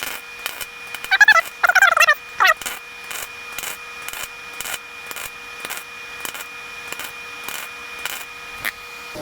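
A YesWelder DP200 MIG welder lays stacked welds on a 1963 VW patch panel: steady, evenly spaced crackling pulses run throughout, with a louder, rougher buzzing burst early on. No one speaks.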